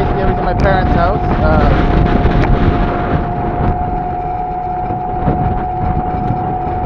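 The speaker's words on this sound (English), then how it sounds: "Bad wind, very bad wind now." Strong wind buffets the microphone during a ride, a loud, continuous roaring rumble with a steady engine-like tone underneath, while someone speaks over it.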